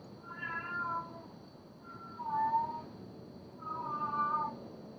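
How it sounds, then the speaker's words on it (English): A cat meows three times in separate drawn-out calls, fairly close, with a faint steady hum in the background and no talking. "Shut up, cat."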